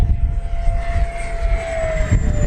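FMS Futura radio-controlled model jet flies knife edge down a field. Its steady engine whine holds at a distance, with a thin tone that slowly falls, over outdoor wind rumble.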